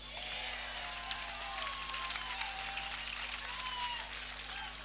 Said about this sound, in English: Do you want to clap for yourselves?